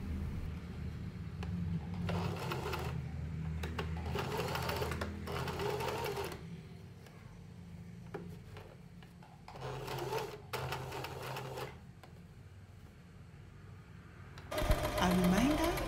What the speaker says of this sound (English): And then after that, sew all the pieces.